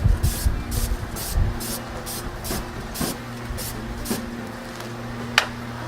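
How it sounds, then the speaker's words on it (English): Cooking spray hisses onto a hot barbecue grill in a few short bursts, sharp and close, over a low steady hum from the grill. "you can use cooking spray, but be careful when you use cooking spray not to come close to the fire"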